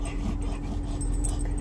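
An excited dog whimpers and whines in anticipation of a pup cup, soft high yips over steady low background rumble, close to the listener.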